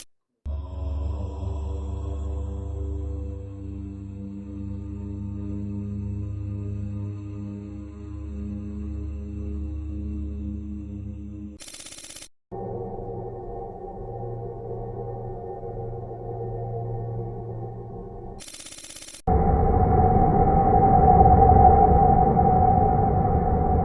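Sonified space recordings of the sun, Jupiter, Saturn and plasma play one after another as eerie droning, humming tones. Short bursts of hiss separate the sections, and the final section is louder and buzzier. No one speaks.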